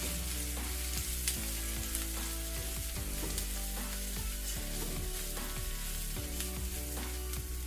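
Chopped onions frying in a pan with turmeric, a steady close sizzle throughout with repeated scraping stirs of a spoon against the pan, no talking.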